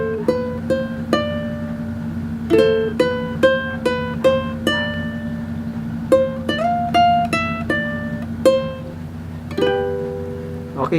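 Fingerstyle ukulele picks out the refrain of a song, a clear run of plucked notes with steady rhythm, played close and alone with no talking.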